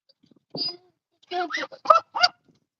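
A hen gives a few loud, squawking clucks in short bursts separated by brief pauses, close by, just after laying an egg.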